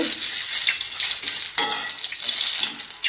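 Dry red chillies and white cumin seeds frying in hot oil and ghee for semolina khichuri, giving a steady, close sizzle with crackling bursts throughout and no voices.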